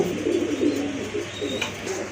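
Large Sirazi pigeons, a pair, cooing in soft repeated low murmurs close by, with faint background noise and a brief higher chirp.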